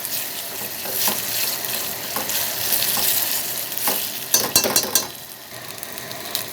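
Tomato paste sizzling and frying with garlic in a pan, stirred steadily with a utensil that scrapes and clinks against the metal now and then, close and moderately loud with a few sharper clatters near the end.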